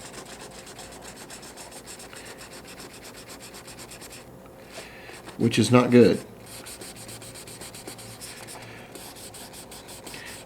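Steady rubbing and rasping of wet sanding on clear coat over a Honda gold insert runs throughout, with a brief louder scraping burst near the middle; a voice speaks briefly.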